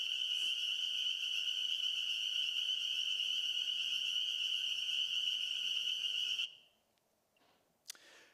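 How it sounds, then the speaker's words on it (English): A dense chorus of thousands of spring peeper frogs forms a loud, steady high-pitched ringing that cuts off abruptly after about six seconds, leaving near silence with one brief sharp click. "thousands of peepers here"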